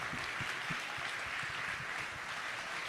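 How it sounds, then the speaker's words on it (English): Audience at a Texas youth summit giving a round of applause, a steady, fairly distant wash of many hands clapping that holds evenly throughout with no voices on top. "Let's give them a round of applause."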